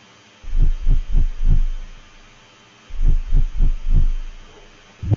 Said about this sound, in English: I was like hitting my mic with like my hand or something